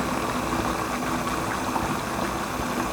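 A pot of rice and potato curry boils on the stove, giving a steady, dense bubbling hiss that stays even from start to finish. It is close and moderately loud, with no talk.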